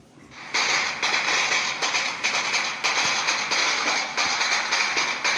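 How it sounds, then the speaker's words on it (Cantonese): A string of firecrackers goes off in rapid, crackling bursts, loud and close, with a few brief gaps over about five seconds. "好啦，炮仗燒過"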